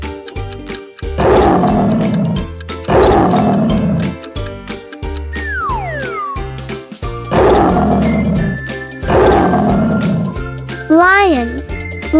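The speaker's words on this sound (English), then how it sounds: "Lion, lion." A lion gives four deep, rumbling roars, spaced a couple of seconds apart and loud up front, with a playful children's quiz tune and jingling sound effects running underneath.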